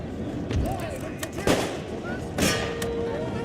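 Cannon fire in the Total War Empire video game, with England's forces in battle: loud booming blasts ring out over a constant din of gunfire and battlefield noise.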